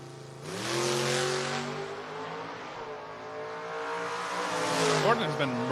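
At a drag race, a 1970 Mustang and a 1989 GMC launch with loud engines roaring and revving over several seconds, the sound rising again near the end, while an announcer talks throughout.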